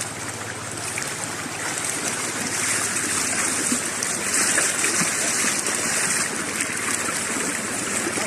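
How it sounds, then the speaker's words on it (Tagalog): Someone wades through flood water after rain in Antipolo, with a steady broad rush of moving water, close and continuous. "so atawid tayo sa baha guys"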